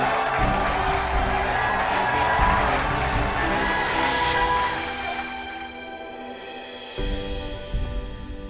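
A theatre audience applauding and cheering at a stage performance's farewell show, a dense, loud, sustained wash of clapping that gradually fades, then a brief louder burst near the end.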